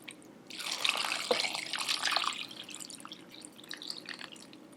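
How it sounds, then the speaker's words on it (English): Ordinary tap water runs into an Instant Pot inner pot, filling it toward the max line: a bright, hissing, splashing stream that begins after a short pause, then thins into lighter trickling and drips, fairly quiet and with no voices. "I'm just gonna fill this up with regular old tap water for me, all the way up to that line"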